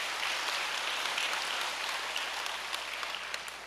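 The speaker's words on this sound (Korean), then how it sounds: "우리 주인태 지구장님께 다시 한번 뜨거운 박수 부탁드립니다" Warm audience applause at a church gathering, dense, even clapping from a large crowd throughout, tapering slightly toward the end.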